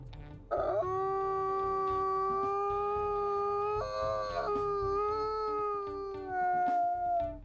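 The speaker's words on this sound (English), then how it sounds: "It's a pretty deep howl," A deep, sustained wolf howl from the video game WolfQuest Wayfinders, with rich harmonics, rises and wavers over several seconds, clear and close with faint background hum.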